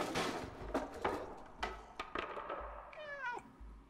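The cat in the video game Stray meows several times, short and fairly close, with a final drawn-out trilling meow.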